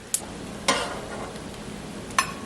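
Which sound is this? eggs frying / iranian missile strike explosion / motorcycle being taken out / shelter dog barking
eggs frying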